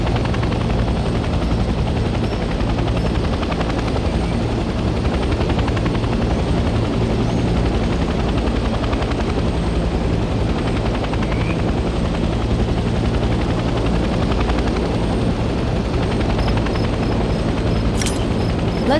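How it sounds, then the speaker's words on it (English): Helicopter engine in the Vietnam-era shooter Hell Let Loose Vietnam, a loud, constant rotor thrum and turbine roar that runs without a break, with nobody talking. "Let's land the helicopter on a helipad and turn the engine off."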